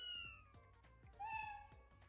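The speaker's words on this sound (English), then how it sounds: "The stray cats." Stray cats in the Blue Archive video game meow repeatedly, several clear drawn-out mews close up and alone, with a louder, higher cry in the middle.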